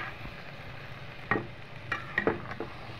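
Prawns and Malabar spinach seeds fry in a pan with a low, steady sizzle, broken by a few sharp clicks and scrapes of stirring.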